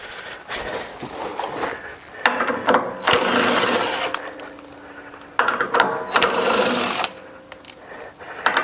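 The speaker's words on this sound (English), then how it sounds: "This makes a impact driver like this makes this job very quick and easy if you have one." An impact driver rattles in bursts as it removes bolts from a Chapman FM150 ATV flail mower, with loud, buzzing hammering runs separated by quieter pauses.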